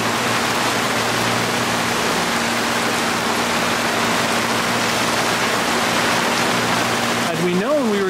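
Waves on Lake Ontario wash steadily around a sailboat in rough, unexpectedly windy weather, a constant loud broadband rush of water and wind that fills the whole stretch, with a brief voice-like warble near the end.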